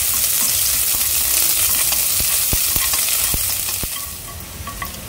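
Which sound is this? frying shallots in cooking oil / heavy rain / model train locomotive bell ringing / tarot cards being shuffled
frying shallots in cooking oil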